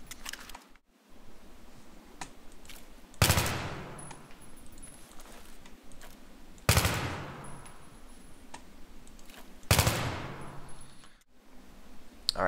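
Gunfire in the video game Battlefield 3 comes as three loud, sharp shots spaced a few seconds apart, each with a short echoing decay, over a low steady background hum.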